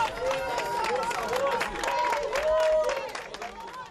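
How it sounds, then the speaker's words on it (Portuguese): Outside a nighttime wake, a crowd claps for a departing family while voices call out and cheer over the steady applause. "Na saída, foram aplaudidos."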